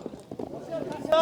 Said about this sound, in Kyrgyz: Кайра эле биринчи номерде сиздерге көрсөткөн кара ат да келди.